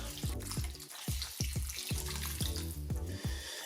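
Water is poured into a hot pot of birria beef and chilies, giving a loud, close rushing pour with a rhythmic burbling churn throughout.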